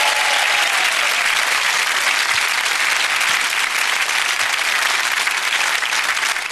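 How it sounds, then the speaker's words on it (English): A studio audience applauds and cheers on a 2009 Channel 4 evening chat show, a loud, sustained wash of clapping that fills the whole stretch without letting up. "Give them all a big cheer."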